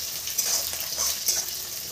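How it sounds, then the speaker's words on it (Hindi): Chopped garlic, green chili and onion sizzling in hot oil in a pan, a steady close-up crackle and hiss with small spattering pops throughout. "फिर कटे हुए लहसुन डालें, हरी मिर्च डालें और कटी हुई प्याज डाल दें"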